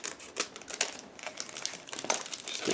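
The clear plastic bag holding a model kit's transparent sprue crinkles and crackles close up in quick irregular bursts, with no voices.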